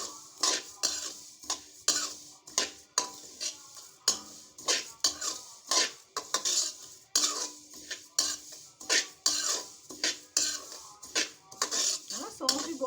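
Fennel seeds being dry-roasted and stirred in a metal pot, giving a steady run of sharp scraping and clinking strokes with a spoon against metal, close and fairly loud, with no talk.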